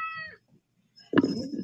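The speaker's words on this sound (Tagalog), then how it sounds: "Bago kaming pusa." A cat gives a short, clear meow, then after a pause a louder, rougher burst of sound follows nearby, with no speech.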